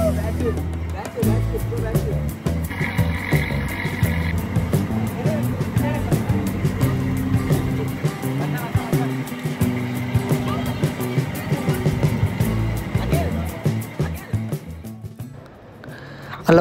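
A boat engine hums steadily through a ride on the water at Srisailam dam, a constant mid-distance drone beneath frequent talking voices that continues almost to the end.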